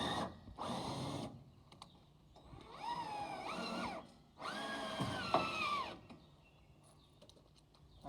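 A cordless drill whirring in three bursts of a couple of seconds each during an X Track install, close and fairly loud, with whining pitch shifts as it loads and winds down and quiet gaps between.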